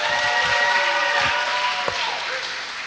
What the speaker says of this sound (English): let's give another round of applause for her.